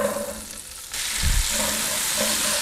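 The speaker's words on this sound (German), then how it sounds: "Und das rösten wir uns jetzt auch mal so eine gute Minute mal an." Root vegetables frying in fat inside a Dutch oven, a steady close sizzle that rises after a second with a brief stir or clatter of the pot.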